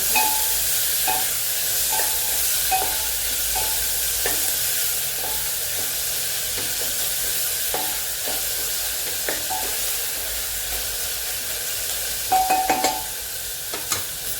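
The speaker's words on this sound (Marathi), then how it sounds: "कांदा भाजत आहोत छान" Onion fries in a pan under a steady sizzle, with repeated scrapes and clinks of a spoon stirring against the metal, close and alone, the knocks growing busier toward the end.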